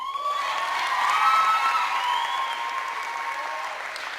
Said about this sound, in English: Let's hear it for Tracy Landrum.